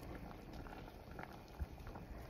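Tomatillos boil in a pot of water, a faint steady bubbling and seething hiss running throughout with no voices.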